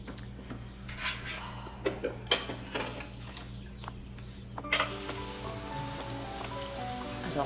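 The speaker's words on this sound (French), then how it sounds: "Ma fille est debout et elle fait la vaisselle." Dishes being washed at a sink, with clinking plates and cutlery and bursts of running water that turn into a steady stream partway through, fairly faint, with no talk.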